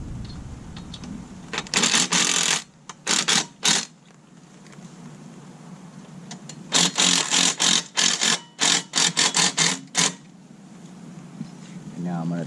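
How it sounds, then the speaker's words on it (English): A screw being tightened to seat a hinge for Bennett hydraulic trim tabs on a Carolina Skiff 198 DLV boat, heard as close, loud bursts of ratcheting or driver whirring in short repeated spurts with pauses between. "So all I have to do is tighten this up, and we'll get the hinge inserted."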